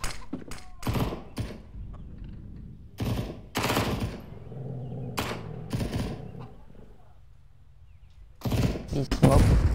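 A decoy grenade in the CS:GO video game imitates gunfire with irregular bursts of sharp, loud automatic shots separated by quieter gaps, ending in a dense volley, with people talking at times between the shots.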